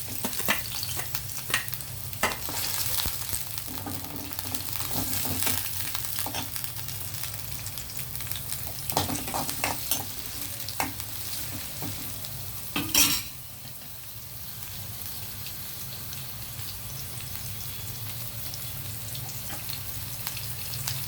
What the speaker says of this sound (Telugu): ఆయిల్ హీట్ అయింది ఆనియన్ వేస్తున్నాను